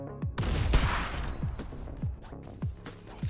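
Gunfire from a video game match, with scattered shots and sharp impacts over about three seconds amid a busy, cluttered game soundscape, moderately loud and without speech.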